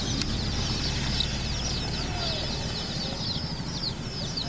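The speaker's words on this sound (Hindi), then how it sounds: "मैं चूजा निकाल के दिखाता हूँ।" Turkey chicks chirping and peeping in a dense, continuous chorus at a poultry sale in West Singhbhum, Chaibasa, steady throughout with a low rumble of background noise and no voices.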